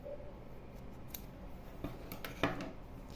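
Scissors snipping black yarn during crochet work, a few close, crisp cuts with a sharper final snip in a quiet room.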